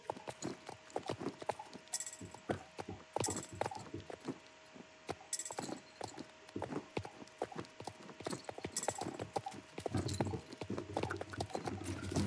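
Rapid, crisp hoofbeats of a horse walking in a video game, synthetic and evenly repeated, with a faint steady hum underneath.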